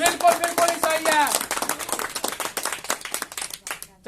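Audience applause for a quiz team at a coaching centre in Khagaria, with uneven, close claps that begin under a speaking voice and then continue as sharp, scattered claps tapering toward the end.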